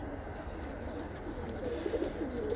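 Young tippler pigeons give soft, low cooing against a steady outdoor hiss, with a few faint coos rising near the end.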